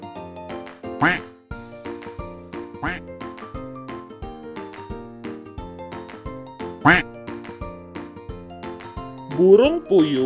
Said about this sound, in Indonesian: Bebek bahasa Inggrisnya duck.